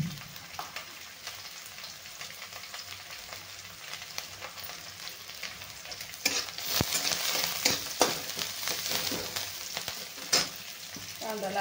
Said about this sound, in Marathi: थोडासा आपल्याला फक्त मऊ करून घ्यायचा आहे कांदा